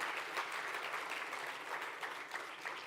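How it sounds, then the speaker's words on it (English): Conference audience applauding together, a dense, steady wash of many hands clapping at close range with no talk over it. "I think we can clap our hands"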